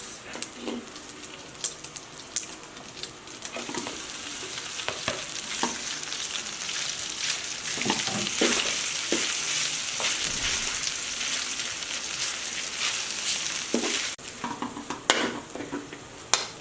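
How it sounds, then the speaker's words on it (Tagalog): Noodles for beef chow mein fry in a hot pan, a continuous close sizzle broken by repeated scraping and stirring clatters throughout. "And then fry the noodles."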